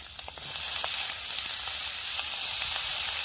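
Green chillies and potatoes fry in hot oil for a Bengali bitter gourd and potato curry, giving a loud, continuous close-up sizzle with faint crackles throughout.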